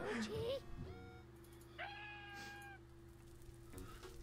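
Cat meows from the video game Minecraft, several short rising calls under a steady game tone and background hum, with a voice at the start.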